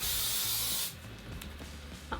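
Hairspray hisses from a can onto wet, slicked-back hair in one close burst of just under a second, followed by quiet handling sounds.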